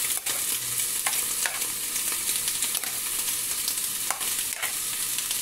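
Food frying in a covered pan, a steady close hiss and sizzle with occasional sharper pops and crackles, continuous throughout with no talk.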